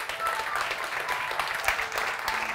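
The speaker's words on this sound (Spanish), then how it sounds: "a los 3 equipos vamos a recibirles con un fuerte aplauso" A film festival audience applauds to welcome three film teams onto the stage, a steady dense wash of clapping filling the hall from start to finish.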